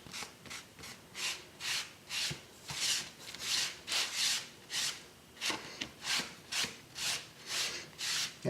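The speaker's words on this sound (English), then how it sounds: "I'll go ahead and take my rag and massage it in. Wipe off all the excess." A rag rubbing and wiping stain across a model road surface in a hobby build, a steady series of close, rhythmic rasping strokes, each rising and falling, with no talk over them.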